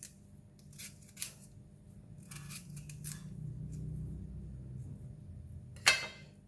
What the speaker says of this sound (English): this is how we peel the ngaku, and we leave the thumbs here, and when we slice, we can just hold it onto it